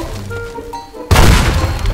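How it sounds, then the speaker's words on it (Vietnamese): A rocket-tipped arrow explodes in a hyper-realistic Minecraft game, a single sudden loud blast after about a second of quieter game noise, followed by a sustained roaring, crackling rumble. "Và cái vụ nổ trong đây các bạn nhìn này."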